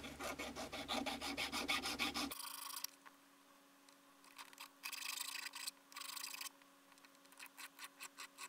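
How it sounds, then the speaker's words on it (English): A soldered, hand-forged piece of pure 24k gold is ground down by hand: a dense run of fast, close rasping strokes, then a low steady hum with shorter separate bursts of scraping. "I guess I'll grind it down."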